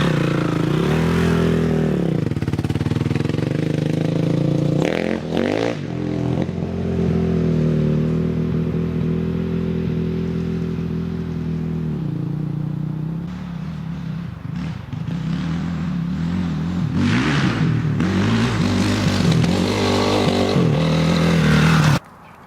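Dirt bike engine fires up and runs for about twenty seconds with no one speaking, idling roughly near the microphone with clattery blips of revving, a brief dip, then louder throttle bursts before it cuts off at the end.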